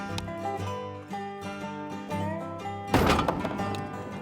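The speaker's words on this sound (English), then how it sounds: "Go ahead and take the safety off when you feel comfortable, and we'll be ready to fire our first shot" A single shot fired at a target outdoors, one sharp loud crack that cuts through a tonal musical background and then decays.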